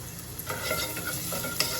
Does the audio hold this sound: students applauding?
no